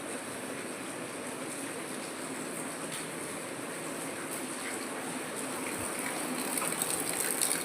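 Rainwater floods through a market street in a steady, broad rushing wash, growing slightly louder toward the end, with no voices.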